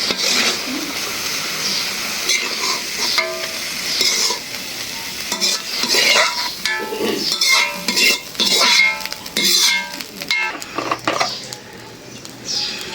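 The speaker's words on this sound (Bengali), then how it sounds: "শাকের বাগাটা কিন্তু সোয়াবিন তেল দিয়েই ভালো হয়" Tukani saag greens frying in soybean oil in a pan, with steady sizzling and repeated scraping, clinking stirs of a utensil against the pot, close and busy throughout with no talk.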